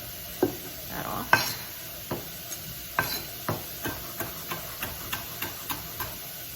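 A knife chops fresh basil on a cutting board in a string of crisp, close taps that start irregular and settle into a quicker, steady rhythm.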